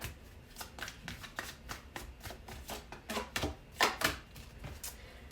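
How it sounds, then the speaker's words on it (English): A deck of tarot cards is shuffled by hand in a quiet room, producing a steady series of crisp riffling bursts, close and moderately loud, with no talking. "The Tower flew out of the deck for you as I was shuffling."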